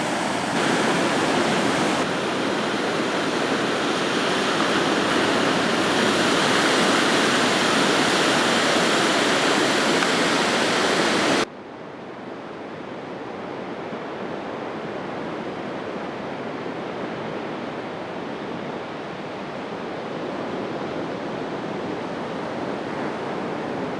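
Loud, continuous roar of heavy ocean surf crashing close by on Stradbroke Island, Australia, dense and relentless, easing slightly in intensity partway through but never letting up.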